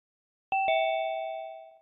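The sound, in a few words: device ding chime like a doorbell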